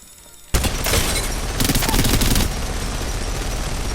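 Rapid automatic gunfire in the shooter game Apex Legends bursts in loud and close after a quiet half second, continuing as a dense, sustained stream of shots.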